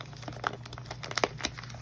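A paper package being torn open: paper crinkling and tearing in short, close bursts, with a few sharper rips standing out from the steady rustle.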